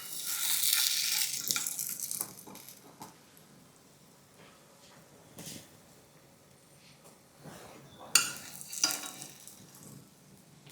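Potato tikki patties for ragda pattice shallow-fry in a pan. A soft sizzle runs underneath, followed by a few scraping, turning sounds from a spatula, with a sharper burst near the end, all close and moderate.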